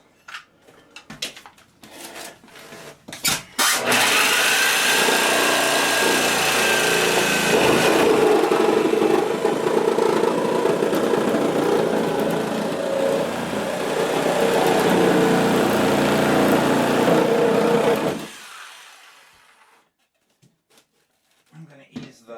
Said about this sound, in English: jigsaw in there now and see if I can get it to go.